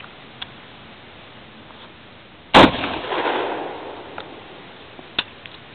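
A Rossi Riot sawed-off shotgun fires one 3-inch Expert HV steel shot shell at a range: a single sharp, loud blast that rings out and decays over about a second, with faint clicks before and after.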